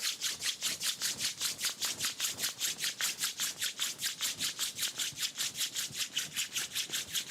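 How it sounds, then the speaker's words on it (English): Palms rub briskly together in a steady back-and-forth rhythm, about four strokes per second, close and clear in a quiet room with no talking. "Rub your palm against each other."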